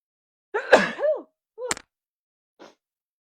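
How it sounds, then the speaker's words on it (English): A person sneezes: a sharp voiced burst with a rising inhale, then a second quick sneeze and a soft trailing sniff, close and fairly loud. "Take a moment, mostly because I have to sneeze."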